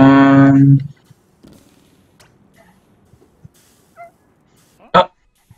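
Dog sounds from the Mimpi Dreams video game: a loud burst of whimpering, yipping barks at the start, then faint scattered blips and one sharp close hit near the end.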